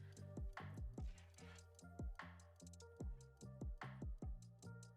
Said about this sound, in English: Oh, there was like a ticking noise,